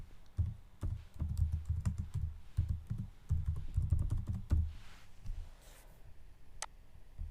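Computer keyboard typing a test case name, close rapid key clicks in bursts with short pauses, then a few scattered taps near the end, no speech.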